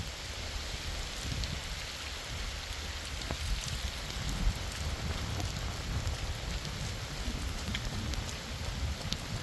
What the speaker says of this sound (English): I'm really done with all that rain.